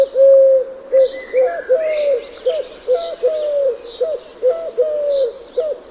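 A collared dove coos close and loud in a steady repeating phrase of soft hooting notes, with faint chirps from other birds in the background.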